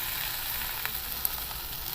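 Makki roti, a corn flatbread, sizzles in oil on a hot tawa with a steady, soft hiss dotted with a few faint pops and crackles.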